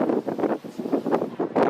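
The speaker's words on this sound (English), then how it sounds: "God, it's windy." Gusty outdoor wind buffets a microphone up close, producing loud, irregular bursts of rumbling rush that come and go in quick pulses.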